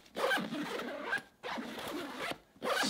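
Zipper on a laptop backpack's main compartment, fitted with paracord zip pulls, run open in three quick continuous rasping strokes separated by short pauses, close and fairly loud with no talking.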